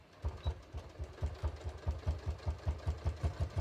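A sewing machine stitches a shorts waistband along an earlier line of stitching, running in a steady rapid chug of regular low thumps, close and moderately loud, with no talking.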